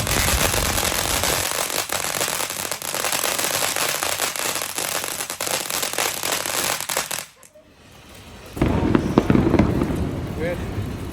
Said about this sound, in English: I love how you guys do fireworks so fun.